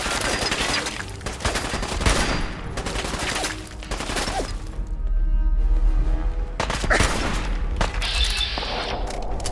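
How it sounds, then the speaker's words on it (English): Gunfire in Fallout 4 with the Sim Settlements 2 mod, dense bursts of rapid shots and fusillades in a chaotic firefight, loud and close, with short lulls between volleys. "Cover fire over here already!"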